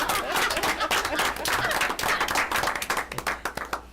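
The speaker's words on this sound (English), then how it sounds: "they deserve a round of applause for" Scattered applause from a small board meeting audience, uneven claps that start fairly full and thin into a few separate near claps toward the end.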